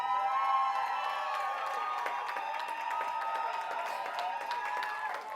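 A commencement audience at Drew University applauds and cheers for a student speaker, with steady crowd clapping and scattered shouts filling the full stretch at moderate volume.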